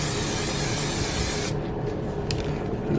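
A continuous hiss of aerosol cooking spray for about a second and a half, then stops, leaving quiet background with a few faint clicks.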